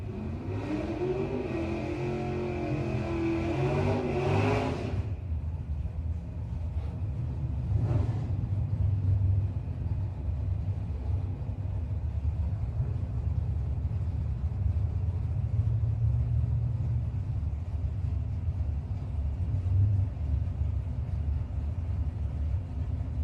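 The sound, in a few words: 1966 Chevy II drag car racing down the strip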